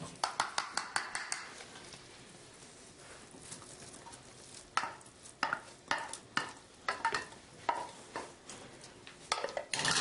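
Parmesan cheese stirred into risotto made with fresh trout, first a quick series of spoon scrapes, then a quiet pause and several more irregular stirring strokes against the pot, close and fairly soft.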